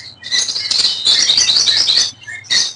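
Pet birds in a home or shop chirping loudly and close, with a dense run of rapid high tweets that pauses briefly and then resumes.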